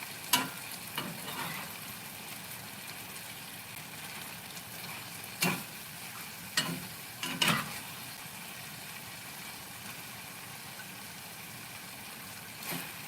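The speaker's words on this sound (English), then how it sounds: "While I'm waiting for my chayote to cook down a little bit" Chayote squash and beef stir-frying in a pan, a steady low sizzle with a few louder clattering stirs of the utensil at scattered moments, close by and with no voices.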